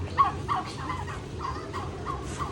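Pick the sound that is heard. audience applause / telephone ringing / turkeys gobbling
turkeys gobbling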